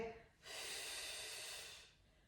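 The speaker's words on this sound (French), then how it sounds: "essaie d'avoir des belles grandes expirations qu'on est capable d'entendre" A single long, loud exhalation during exercise, a breathy rushing hiss that swells quickly, holds for over a second, then fades out, close to the microphone.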